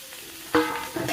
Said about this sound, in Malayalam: അരിഞ്ഞ് വെച്ച് വാഴക്കൂമ്പ് ഇതിലേക്ക് ഇട്ട് കൊടുക്കുക